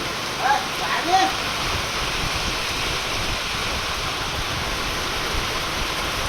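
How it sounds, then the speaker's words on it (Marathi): Steady afternoon rain pours down in Rajgurunagar in a broad, even hiss, with a couple of brief bumps early on and no voices. "आज दुपारी साधारणतः 2 वाजण्याच्या सुमारास पावसाला सुरुवात झाली"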